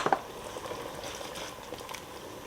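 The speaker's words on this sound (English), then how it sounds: "I'm going to stir in the mashed beans." Mashed beans are stirred into a simmering Tuscan vegetable soup, a soft steady bubbling with faint wet patter and a couple of small splashes at the start, close and quiet, with no talking.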